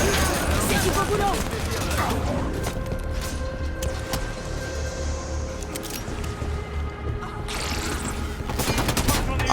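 Rapid gunfire in Halo 5: Guardians, bursts of automatic shots crackling near and loud in a firefight, with French-speaking voices talking over the shooting.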